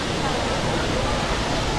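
Waterfall rushing below a temple in Nepal: a dense, steady roar of falling water, loud and close, filling the whole moment with no audible talk.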